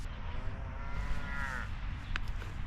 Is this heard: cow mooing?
yes